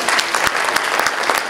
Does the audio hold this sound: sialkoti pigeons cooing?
no